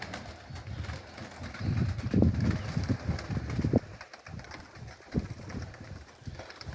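Pigeons of the Kherson breed cooing in low, throaty bursts close by, with a cluster of coos in the first half and a few scattered ones later over a steady outdoor background.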